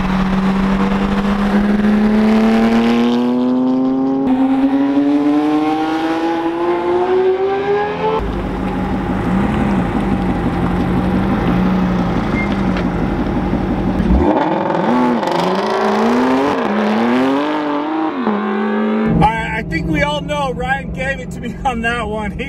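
A Porsche GT3 RS pulls away with loud, rising engine revs that climb through the gears, then fall and build again before cutting off.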